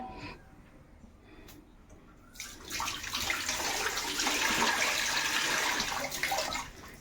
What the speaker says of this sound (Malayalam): ഇനി നമുക്ക് നമ്മുടെ രണ്ടാം പാലും കൂടെ ചേർത്ത് കൊടുക്കാവേ